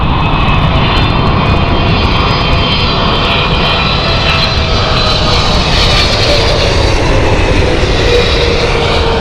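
Thai Airways jet airliner on a Bangkok flight at Heathrow, its engines roaring loud and steady throughout with a broad rushing hiss, close and sustained without talk.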